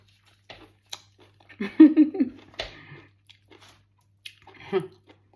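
Close chewing and crunching of boiled cherry snails dipped in spicy Thai chili jaew, a few bursts of bites spaced across the moment, quiet between them, no talking.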